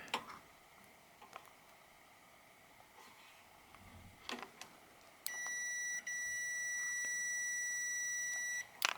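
Multimeter continuity beep while testing the dump switch of a Heat Storm Tradesman infrared heater: a few faint ticks, then a steady electronic tone holding for about three seconds before cutting off.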